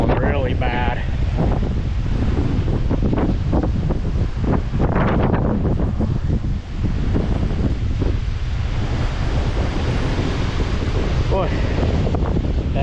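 Strong wind sweeps across a farm and batters the microphone with a loud, roaring rush and heavy gusts, while someone speaks briefly over it.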